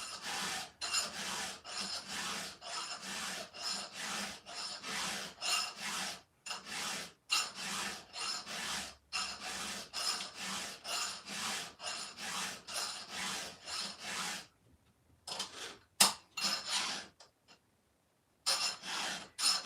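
A hand file sharpens the cutters of a chainsaw chain, with close, crisp rasping strokes repeating in a fairly regular rhythm and occasional pauses between strokes.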